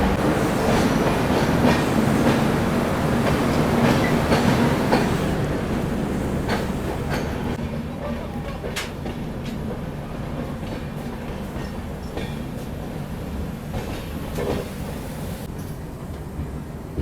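The Agartala–LTT Mumbai AC Express rolls along near a tunnel before New Haflong station, a loud, steady rumble of wheels with rhythmic rail clatter that eases slightly partway through.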